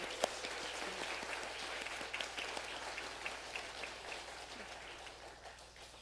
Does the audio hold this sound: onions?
no